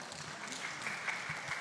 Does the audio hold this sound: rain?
no